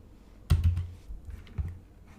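Someone types code on a computer keyboard, with a few soft close key presses and thuds in a quiet room and no speech.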